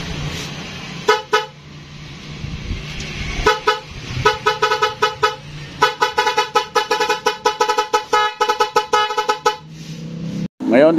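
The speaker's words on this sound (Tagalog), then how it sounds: "subukan natin mga idol tropa kung parehong gagana ang music loud horn at ang stock horn" A music-type loud horn wired alongside the stock horn on a vehicle, switched by a 3-way switch, sounds loud, close melodic honking phrases in rapid repeated bursts, with short pauses between runs.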